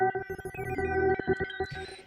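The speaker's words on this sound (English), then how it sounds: "It's just like a really glitchy, it sounds kind of like a computer sound." A glitchy, computer-like synth factory preset, rapid stuttering bursts of bright tones chopping on and off, close and alone.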